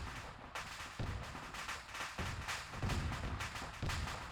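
Arma 3 co-op infantry combat: a steady run of heavy gunfire, with dense repeated shots and thumps that carry on without a break and no talking over them.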